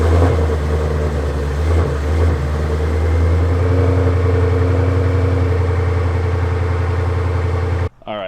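A Toyota Supra with a raised bumper idles with a steady low engine rumble as it is pulled out into the street, loud and close, the note shifting slightly before cutting off near the end.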